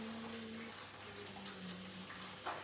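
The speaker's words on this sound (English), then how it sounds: "the kettle's just boiled, perfectly timed. So I'm going to pour that all over now, those vegetables" Boiling water from a kettle is poured over vegetables in a pot, a steady, soft watery rush that runs continuously with a small splash near the end.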